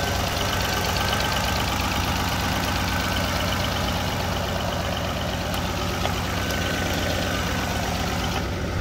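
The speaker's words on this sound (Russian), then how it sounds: "работа двигателя у нас отличная." A Ford Explorer with the 4.6 V8 idles steadily close to the microphone, an even rhythmic pulsing rumble with light ticking throughout and no voices.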